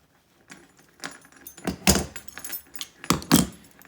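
Metal chain links from a pendant light are worked apart with pliers, giving a series of small metallic clinks and jangles in irregular bursts, close and moderately loud, with no talking.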